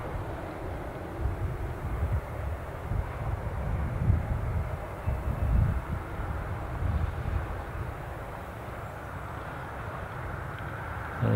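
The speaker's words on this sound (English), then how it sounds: "As we watch this taxiing out, Boeing 737" A Boeing 737 taxiing at Newcastle International Airport gives off a steady low jet-engine rumble, distant and continuous, with no voices over it.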